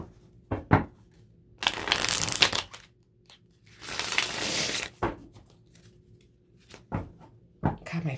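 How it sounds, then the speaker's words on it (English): Tarot cards being shuffled by hand in several separate bursts of papery riffling and rustling, close and fairly soft, with short quiet gaps and a few sharp taps between them. "So let's do a few shuffles and we'll start the earth signs with Taurus."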